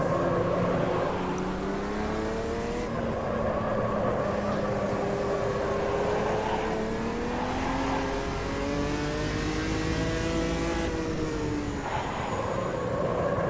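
Race cars in Automobilista 2 with a Chevrolet Omega, a loud, steady engine note rising and falling through gear changes, close and continuous, with other cars droning alongside.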